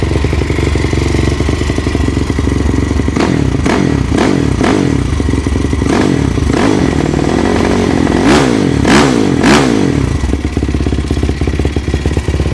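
A Yamaha YFZ450 ATV engine with a 65 pilot jet and 175 main jet, close and loud, idling roughly with a clattering, knocking tone, then blipped through a series of sharp revs that rise and fall in quick bursts.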